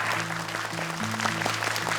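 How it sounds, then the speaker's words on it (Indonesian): Studio audience applause at an Indonesian Quran recitation talent show, a steady wash of clapping with sustained musical tones and chords playing underneath throughout. "Boleh tepuk tangan Kak Nabila"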